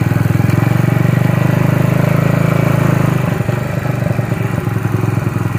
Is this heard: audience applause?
no